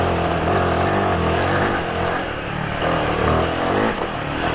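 A Royal Enfield Himalayan 450 motorcycle ridden off-road, its single-cylinder engine revving and chugging loud and close, the note swelling and dipping continuously as the throttle opens and closes over rough ground.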